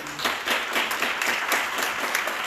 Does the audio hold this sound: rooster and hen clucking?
no